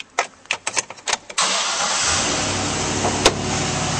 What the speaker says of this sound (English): And now we'll start up this truck.